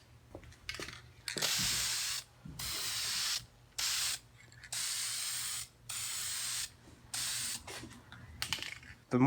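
A spray can tints car corner lights in a series of about six steady, close hissing bursts, each lasting roughly a second, separated by brief silent gaps, with faint handling clicks between them.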